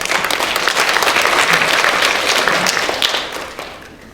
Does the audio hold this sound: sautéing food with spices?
no